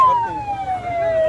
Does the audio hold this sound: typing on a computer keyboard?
no